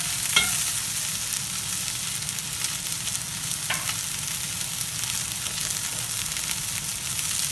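Bok choy sautéing in a hot pan with no liquid seasoning or soy sauce, giving a steady, close frying sizzle throughout, with a couple of brief clinks of stirring and no talk.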